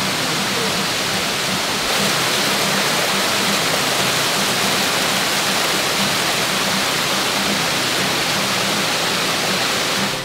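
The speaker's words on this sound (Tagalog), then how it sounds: "Sa Bukal, nanggagaling ang tubig ng Kaparkan Falls na bumababa hanggang sa Tinin River." Kaparkan Falls in Abra roars as a loud, dense wall of falling water, continuous and close, with no voices over the steady cascade.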